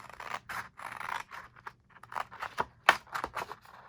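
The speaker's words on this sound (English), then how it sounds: "Let's cut these off." Scissors snip through printed cardstock cards being trimmed for a junk journal pocket card, giving a series of short, crisp cuts and rustles in irregular bursts, close and fairly quiet.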